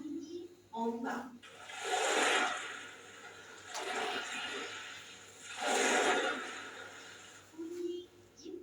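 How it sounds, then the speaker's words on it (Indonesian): Ocean waves surge and wash in broad, rushing swells, rising and receding about three times, with a brief voice at the start and end. "Bunyi ombak."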